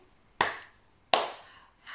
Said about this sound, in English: Let's clap our handies and say hello everybody